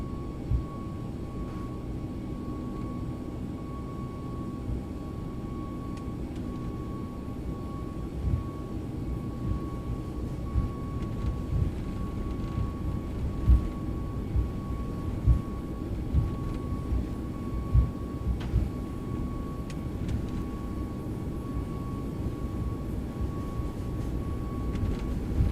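Boeing 737-800 engines spool up to takeoff thrust in a flight simulator, a steady loud roar with a constant tone and faint runway rumble thumps, no voices over it.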